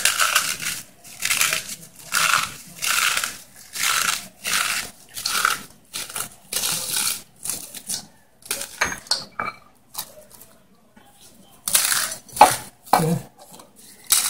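Ingredients are smashed and pounded for Lao steamed fish salad (naem pa): a loud, steady run of close crushing strokes, then more scattered, irregular hits toward the end.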